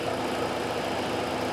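A 2007 Saturn Sky with a 2.4-liter four-cylinder and five-speed manual idles at low mileage, a steady, even chugging hum close by with no voices.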